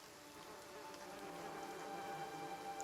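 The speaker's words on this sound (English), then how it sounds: "The only answer you hear is the buzzing of flies from the tree" Flies buzz around a tree in the fantasy role-playing game Pillars of Eternity, a steady faint insect drone that swells gently and keeps on without a break, with no voices.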